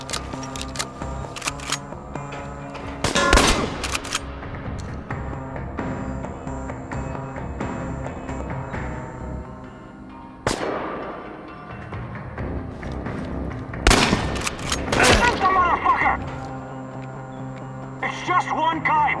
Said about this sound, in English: Engage the target! He's behind cover! Flank him! Sucker him, boys! Shoot to kill!